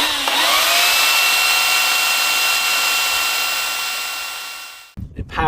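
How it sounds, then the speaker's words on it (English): A 2 kilowatt chainsaw runs on a 2400 W portable battery, its motor whining steadily and loudly before slowing and cutting out near the end, followed by a few brief knocks. "My chainsaw, 2 kilowatt chainsaw."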